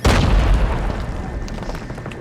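A grenade blast in a video game: one loud, booming explosion right at the start that decays into a rumbling, crackling tail, with faint speech-like sound under it.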